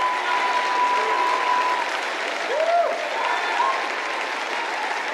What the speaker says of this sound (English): Clap your hands, O ye people, and shout.